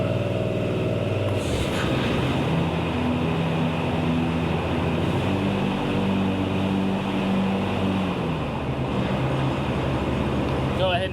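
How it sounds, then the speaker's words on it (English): A 2022 John Deere Z530M zero turn mower runs with its blades engaged, a loud, steady engine drone and blade whir that shifts pitch slightly as it goes, with a voice talking faintly underneath. "I'm gonna raise my deck up and then turn those blades on."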